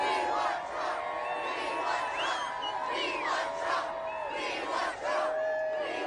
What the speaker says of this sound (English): This crowd goes on and on and on.